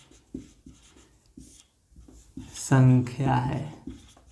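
A pen writes on paper during a math lesson with short soft scratching strokes, close and faint, followed by someone speaking over it.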